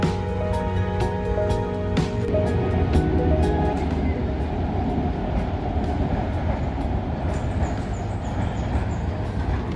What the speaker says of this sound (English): you may have heard the train line there on the right hand edge of the Lumpini Park